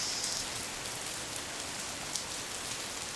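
Steady tropical rain falls on a beach in the Seychelles, a dense, even hiss of drops with no talking.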